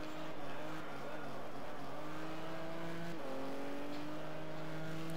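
Engine of a Porsche 911 GT2 race car in the racing game GTR2 at Circuit de Catalunya, a steady mid-pitched drone that holds, dips briefly as the revs shift, then climbs again under light background noise.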